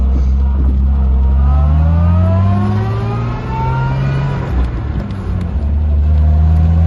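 A 1963 Jaguar XKE roadster's engine runs loud and close, a steady low rumble with rising and falling revs in smooth swells, no voices over it.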